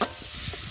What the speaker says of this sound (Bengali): ততক্ষণ আমি একটু ভালো করে কষিয়ে নেব